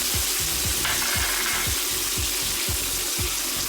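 Lamb chops pan-sear in salted butter with minced garlic, thyme and rosemary, a steady loud sizzle with soft rhythmic low thumps running beneath it.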